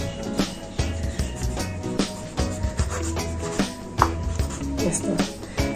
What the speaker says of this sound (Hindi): ये मेरे पास लीमू है भी, इसको मैं स्लाइस कर दूंगी